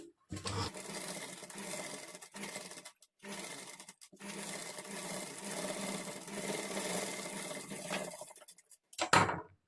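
Close sewing machine runs a seam along a princess-cut blouse lining in long whirring stretches broken by short pauses, ending with a few louder handling knocks.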